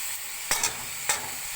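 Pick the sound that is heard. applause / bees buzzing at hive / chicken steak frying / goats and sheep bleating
chicken steak frying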